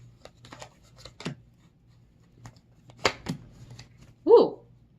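Tarot cards being shuffled and handled close by, a few short riffles and flicks separated by quiet gaps, with a brief soft voice sound near the end.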